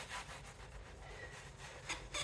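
A foam applicator rubs water or solvent tyre dressing onto a car tyre, giving a steady, close, soft scrubbing swish that continues the whole time, quiet, with no talking.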